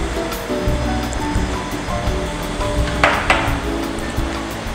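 Milk poured over matcha green tea for an iced layered matcha macchiato, giving a steady rushing, watery pour with a brighter splash partway through, close and fairly loud.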